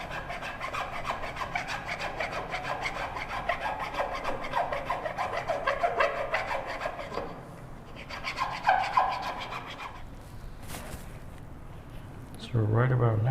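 A half-round rasp shaping wood on a spindle short stool, with steady rhythmic rubbing and filing strokes that continue close and loud, pause briefly, then resume with a few more scraping passes.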